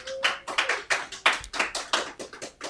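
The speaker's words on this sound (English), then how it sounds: "Another round of applause for Horacio Oroa." Audience clapping on a television talk show, greeting a co-host; a dozen or so distinct, close hand claps in an uneven rhythm, sparse rather than a full crowd roar, with no talking over it.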